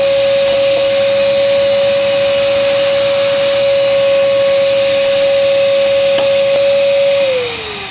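A power tool drives a self-tapping screw during spark plug and cold air intake work on a V8 Fiero, a loud steady whine holding one pitch for about seven seconds before winding down as the screw seats.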